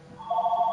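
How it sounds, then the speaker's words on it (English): A telephone rings with a steady electronic tone that starts abruptly and holds, loud and close with nothing else over it. "let me let the phone finish ringing so I can say this."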